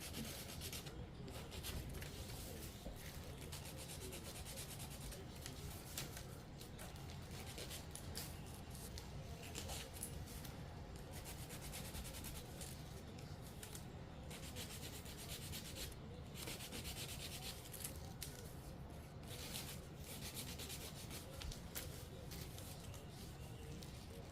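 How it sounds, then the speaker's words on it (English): Quiet, steady rubbing of sandpaper over a small Dollar Tree craft piece for a spring DIY project, continuous back-and-forth scraping with no talking. "Alright, sand it."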